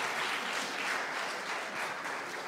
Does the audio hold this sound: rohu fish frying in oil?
no